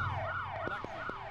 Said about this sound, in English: So they're putting the sirens on and stealing police Vics.